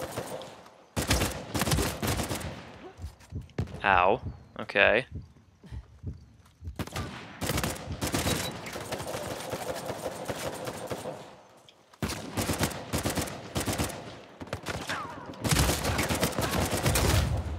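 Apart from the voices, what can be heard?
gunfire in the video game Uncharted 4 multiplayer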